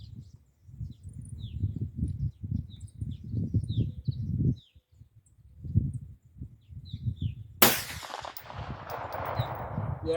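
Several sharp gunshots from a 9mm Palmetto PX-9 fired at a target 200 yards away outdoors, the last crack loud and close, with birds chirping in the background and low wind rumble throughout.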